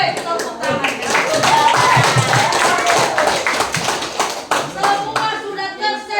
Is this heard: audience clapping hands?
yes